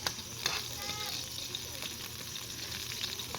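Food frying in a pan outdoors, a steady broad sizzle running throughout with a few small crackles and clatter, moderately close and fairly quiet, no voices.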